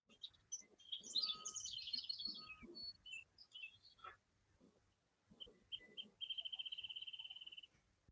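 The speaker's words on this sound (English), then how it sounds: "I can hear a wren tit behind me." A wrentit sings faintly in the distance outdoors, with scattered chirps early on and then a fast, even series of high notes running into a trill, amid low background noise.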